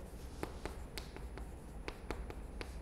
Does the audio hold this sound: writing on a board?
yes